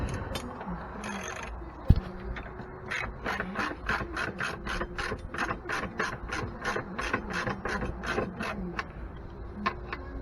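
A manual ratchet wrench tightens bolts on a set of Rough Country running boards for a 2015 Ford F150, producing a fast, even run of close, crisp clicks that continues almost without a break after a brief knock.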